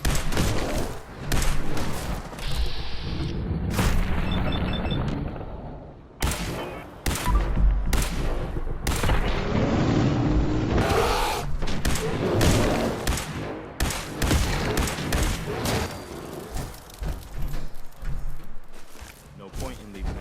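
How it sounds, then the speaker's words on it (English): Heavy gunfire in Fallout 4: dense, repeated bursts of shots and booming impacts fire in rapid volleys for the whole stretch, loud and close, with game voices mixed in. "Opening fire."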